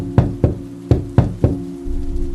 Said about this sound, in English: they continued tapping on the door with an eerie persistence